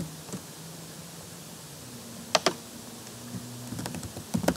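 A few crisp, isolated key presses, Shift followed by Enter, click on a computer keyboard against a quiet background hum.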